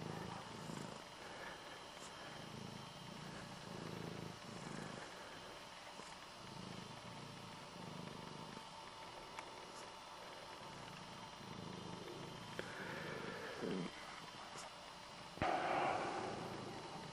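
A mother cat purring steadily while giving birth on a farm, a soft continuous low rumble close by with small shifts and a brief rustle near the end.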